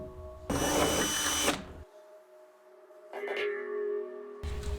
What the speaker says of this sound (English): We'll start by drilling a pilot hole on each side.